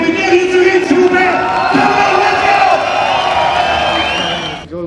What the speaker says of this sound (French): Faites du bruit pour les guerriers du ring, s'il vous plaît.